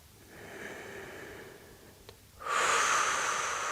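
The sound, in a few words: breathing out during an exercise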